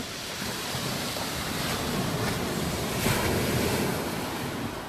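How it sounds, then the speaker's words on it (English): Ocean waves surge and break onto Eastney beach near high tide, a steady close wash of surf with wind buffeting the microphone. "these waves getting up close to me now"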